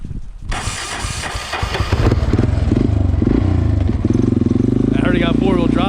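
A 1987 Honda TRX 350D four-wheel-drive ATV engine runs loud and close, its chugging putter climbing after a cold start as the quad crawls up small frozen hills, with someone talking over the steady throb.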